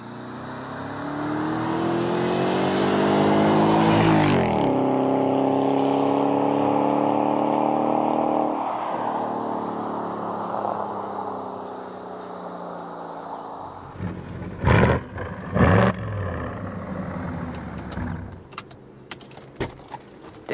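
A BMW E70 X5 4.8i with the N62 V8 engine accelerating hard, a loud, steady rising engine roar climbing through the gears with a brief lift near the start, then settling into quieter cruising with a few sharp knocks toward the end.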